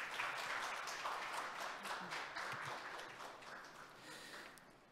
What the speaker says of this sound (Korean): 수고해주신 이유정 변호사님께 다시 한번 큰 박수 부탁드리겠습니다